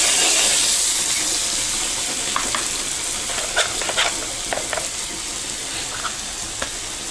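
Tomato puree, crushed from three tomatoes, frying and being stirred in a pan, with a steady close sizzle and hiss and a few soft spoon scrapes against the pan.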